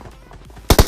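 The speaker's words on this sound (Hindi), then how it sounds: "पर तभी मुझे पीछे से गोलियां चलने की आवाज आती है।" Gunfire in the video game PUBG Mobile: a quick loud burst of three or four automatic shots at the very end, preceded by a brief quiet stretch.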